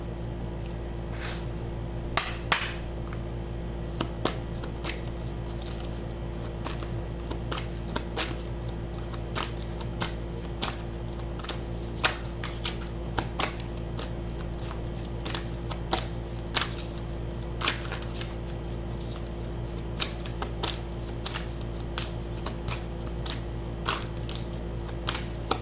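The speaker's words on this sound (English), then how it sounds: "I want to take an oracle card," Isis oracle cards being shuffled by hand, a soft continuous riffling and flicking of card stock with scattered crisp snaps, close and fairly quiet over a steady low background hum, no talk.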